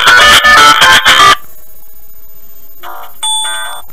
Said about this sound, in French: vous avez des sonneries très très fortes